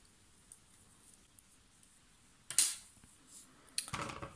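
A knitter snips yarn after casting off the last row of a baby cardigan, a short crisp scissor cut near the microphone followed by a second quieter rustling snip in a quiet room.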